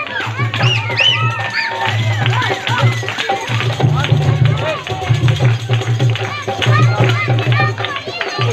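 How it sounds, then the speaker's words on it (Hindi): An audience claps together at a healing meeting in Pehalwan Goth, Karachi, a dense steady applause with crowd babble and voices mixed in throughout. "तालियां मार दो, तालियां मार दो।"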